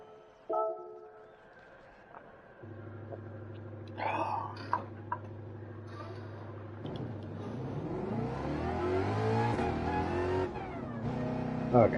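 Ford Mustang engine in a racing video game with the weight left unchanged and the engine choked, revving through steady low tones and rising gear sweeps, with a few throat-clearing sounds and brief vocal noises over it.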